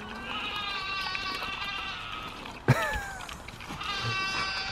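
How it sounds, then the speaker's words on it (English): A goat bleats loudly in long, wavering cries, with a sudden sharp knock in the middle before the bleating resumes outdoors. "That's your goat Blossom making all that noise."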